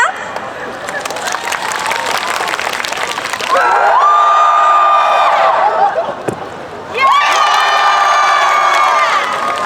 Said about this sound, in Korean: 제가 여기 오른손을 들면은 박수고요. 여기 왼손을 들면은 환호성이에요.